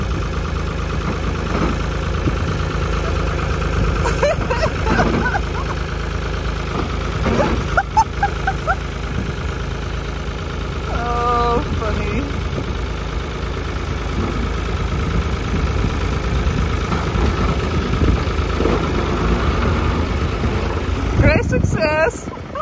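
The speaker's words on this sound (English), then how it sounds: "Difficult this forklift is to start" A farm forklift engine runs at a steady idle, producing a continuous low rumble that stays fairly loud and even throughout, with a few faint knocks and rattles on top.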